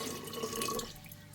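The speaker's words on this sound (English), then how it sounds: "we're just going to add 1 liter of cold filtered water into it." Cold filtered water poured steadily into a sterilized glass jar, a continuous close splashing pour that eases off near the end.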